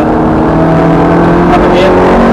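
Ferrari F430 on track at Thruxton Circuit, engine held at a loud steady drone that rises slightly under acceleration, heard from inside the car with an instructor's voice talking over it.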